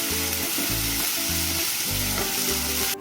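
Jaggery rice being stirred in a hot pan gives a loud, close, continuous sizzle, with a series of rhythmic scraping stir strokes roughly every half second.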